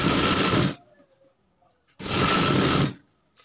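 A sewing machine stitches a sleeve in two loud, steady bursts of under a second each, separated by near silence, heard close up and alone.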